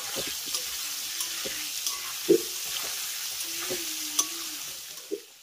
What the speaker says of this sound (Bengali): এবার আলুটাকে আমি খুব সুন্দর করে একেবারে লাল লাল করে ভেজে নেব